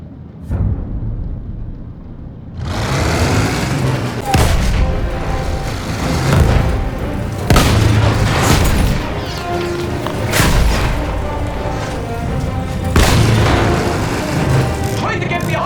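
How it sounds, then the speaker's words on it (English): Battlefield 1 story-mode combat: repeated booming explosions and bursts of gunfire, loud and close, under shouted soldier voices and constant battle rumble. "Nice shooting, McManus! Get ready to pull back if we're good! Get in here! Engage that gun!"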